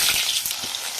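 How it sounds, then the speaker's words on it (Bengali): Chopped onions hit hot oil already seasoned with bay leaf and cumin for a spicy goat curry, giving a loud, steady, hissing sizzle that runs without a break and has no voices. "পেঁয়াজটা দিয়ে দিয়েছি, এটা একটু ভাজা হবে"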